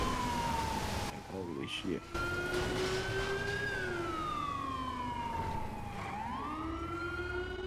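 A police or emergency vehicle siren wails loud and close, its pitch sweeping slowly up and down in long cycles, with someone shouting briefly over it during a traffic stop.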